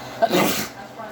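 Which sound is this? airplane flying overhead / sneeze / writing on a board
sneeze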